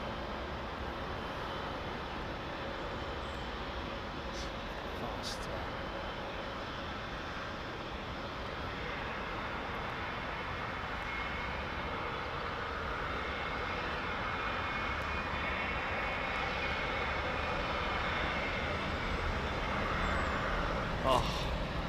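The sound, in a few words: airliner taking off from Heathrow runway 27L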